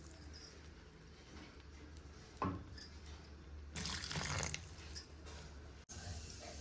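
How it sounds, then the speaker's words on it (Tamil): Hot water is poured over dried salted fish in a kitchen, a soft splashing pour around the midpoint that runs a second or so, with quiet background hiss and small clinks before and after. "கருவாட்டு மேல கொஞ்சமா சுடுதண்ணி ஊத்திக்குவோம்"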